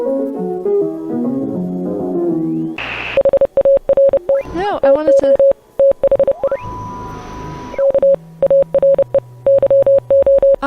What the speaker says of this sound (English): there's gotta be someone out there who translates all the Morse code